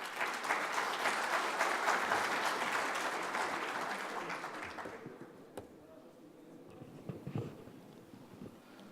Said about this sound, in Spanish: Por favor, recibamos a Ramón con un fuerte aplauso.